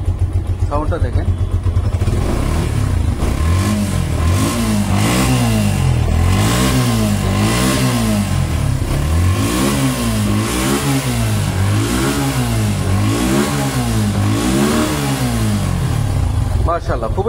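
A 2022 Suzuki Gixxer Monotone motorcycle engine revs repeatedly in rising and falling waves for about seventeen seconds, loud and close, after a brief idle start.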